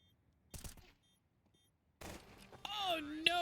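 Pistol gunshots in a competitive esports shooter match fire as two sharp bursts, one early and one near the middle, followed by a caster's excited voice.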